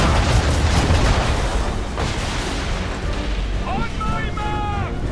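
Ship cannons fire in a naval battle in Assassin's Creed III, making a loud, dense roar of overlapping booms that stays sustained throughout, while a voice shouts over it near the end.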